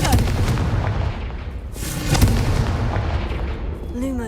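Fire-blasting Confringo spells exploding in Hogwarts Legacy, several sharp booming bursts like gunfire over dense low rumble, with one stronger blast in the middle of the passage.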